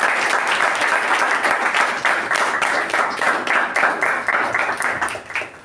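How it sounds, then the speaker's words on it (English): A Toastmasters club meeting audience gives Toastmaster Latha a big round of applause. Many hands clap in a full, sustained burst that holds steady and then starts to thin out at the end. "can we please give a huge round of applause for Toastmaster Latha?"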